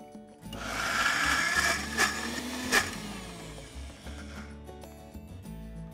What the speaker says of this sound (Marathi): ती आता मी मिक्सरला वाटून घेणार आहे